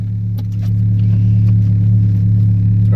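The engine of a modded Ford Focus drones steadily while driving, a loud, low, even hum from inside the car with faint rattles over it.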